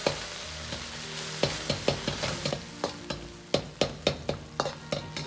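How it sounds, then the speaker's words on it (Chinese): Minced pork sizzles and stir-fries in a smoking-hot wok with a little scallion oil, heard as a steady close crackle punctuated by a regular series of sharp scraping strokes of the spatula, with no talking. "把肉馅炒至发干出油脂"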